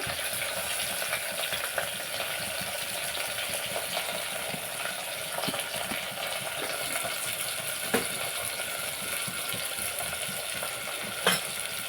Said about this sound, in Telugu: ఆయిల్ హీట్ ఎక్కింది ఆనియన్స్ వేసుకున్నాం అండి పచ్చిమిరపకాయలు వేసుకుని ఆనియన్స్